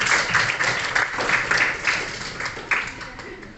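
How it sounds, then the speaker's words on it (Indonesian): A class of pupils claps during a primary-school lesson, a light ragged patter of many small hands with a teacher's voice talking over it. "tepuk tangan semuanya, bagus"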